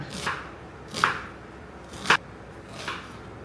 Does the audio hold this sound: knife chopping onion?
yes